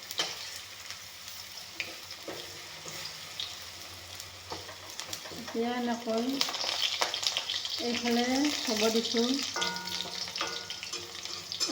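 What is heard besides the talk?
okra frying in a pan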